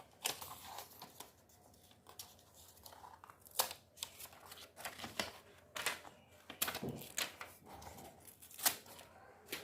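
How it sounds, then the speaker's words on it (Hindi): Faint, crackly peeling of a sticker from a freshly unwrapped acrylic-painting canvas: a scatter of soft, crinkling bursts that rise and fall at irregular intervals over a quiet room, with no voices. "तो हमारा कैनवस खुल चुका है और स्टिकर निकाल लेते हैं जिसमें लगा हुआ है।"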